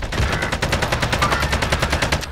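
Rapid automatic gunfire in the battle royale game Warzone, a continuous loud burst of evenly spaced shots lasting a couple of seconds with no pauses, close and dense.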